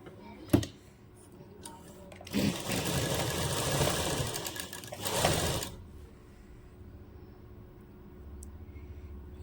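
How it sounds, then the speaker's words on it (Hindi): A sewing machine stitches folded, doubled fabric on a lehenga blouse, with a short burst followed by a longer run of rapid rattling stitches, quiet and close, separated by soft handling sounds. "ये हमें ऐसे डबल करके इस पे इस तरह ही करके सिलाई कर देनी है"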